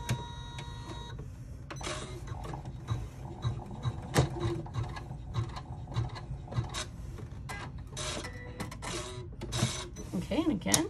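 Embroidery machine stitching a gamer-style bag in a hoop, a steady close mechanical chatter of rapid needle strokes with a rattling, printer-like drive running continuously throughout.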